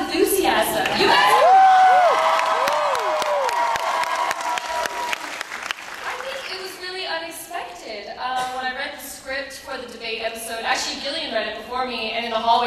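A Comic-Con panel crowd in San Diego applauds and cheers, loud dense clapping that swells early and then thins out, with a voice talking over the fading applause.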